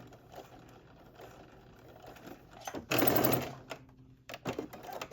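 A sewing machine back stitching a sweatpants seam, heard as a short, louder mechanical burst of under a second amid quieter handling noises.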